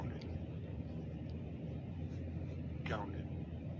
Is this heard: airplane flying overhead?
yes